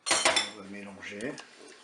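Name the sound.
mixing crème fraîche curry in Cookeo pot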